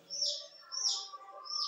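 Day-old quail chicks giving three high, thin chirps in quick succession, close and fairly clear against a quiet background.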